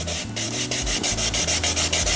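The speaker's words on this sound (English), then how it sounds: "I'm going to wet sand it." A Jaguar XFR mirror cover being wet sanded by hand after a dip in a bucket of water, a steady close rasping rub in repeated back-and-forth strokes with a regular rhythm.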